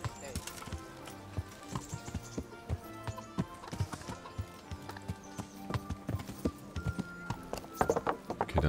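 Horse hooves clip-clopping in a steady rhythm while riding through a medieval setting in the video game Kingdom Come: Deliverance, with dense game ambience and music layered beneath the hoofbeats.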